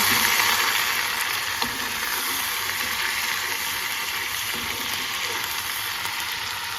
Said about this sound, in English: And I'm going to give it a good stir.